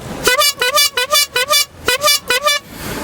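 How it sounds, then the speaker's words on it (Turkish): A car horn on an Istanbul street sounds about ten short, loud honks in a quick, steady rhythm, close by, with no talking over it. "koronavirüse simge olan kornamla onları sevgili arkadaşlar kornalıyorum"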